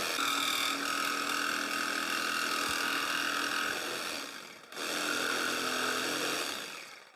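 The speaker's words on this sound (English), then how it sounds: "then I'm going to cut the rest out with a jigsaw" A jigsaw cuts wood to shape a push stick for a table saw. Its motor buzzes steadily and loudly, dips briefly near the end and then resumes. Nobody speaks.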